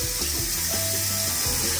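Tap water runs steadily into a sink, a constant hiss and splash with faint clinks underneath.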